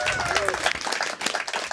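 Audience at a poetry slam claps in a dense, steady burst of applause, mixed with crowd noise and some voices, fairly close.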